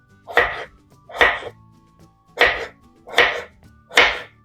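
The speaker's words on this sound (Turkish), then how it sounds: "Patatesleri de küçük küçük küp küp doğruyorum." Potatoes being cut into small cubes with a knife: five evenly spaced, fairly loud chops about a second apart, close by, with no talking.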